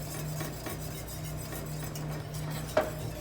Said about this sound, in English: I'm going to add my liaison while I'm stirring